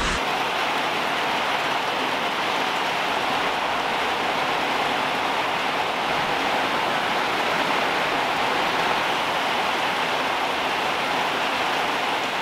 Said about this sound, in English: now it's going to rain me out